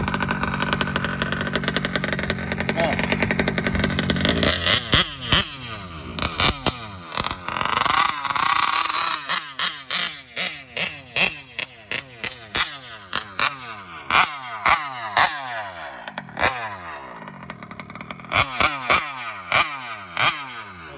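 A 1971 Vespa scooter engine with high compression kicks and sputters, then settles into a rapid run of uneven putt-putt firing pulses, loud and close, with revs rising and dropping.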